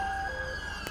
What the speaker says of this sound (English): These sirens are really annoying.